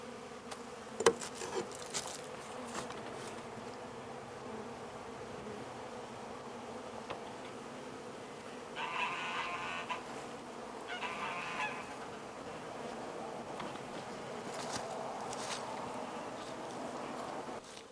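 Steady low insect buzzing from many honeybees around a very active hive, a continuous hum with brief louder swells, heard close by without any talking.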